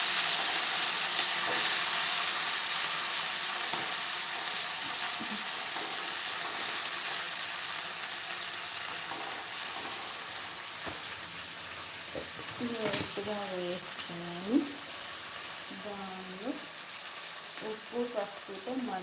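Leafy greens such as fenugreek and ponnaganti fry with browned onion in a pan over lowered heat, giving a steady soft sizzle and hiss with stirring scrapes, while a voice speaks intermittently over it.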